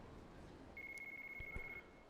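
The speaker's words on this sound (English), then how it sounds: "Just another phone call." A phone rings for an incoming call in Yakuza 4, a single faint, steady electronic trill lasting about a second over quiet background noise.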